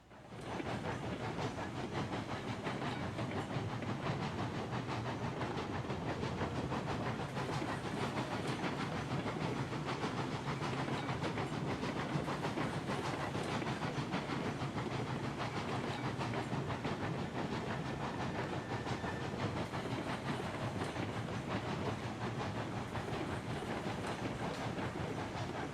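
A long freight train of thirty cars rolls steadily in the Railroads Online game, a continuous dense rumble with rail clatter and hiss staying loud and even throughout, with no voices.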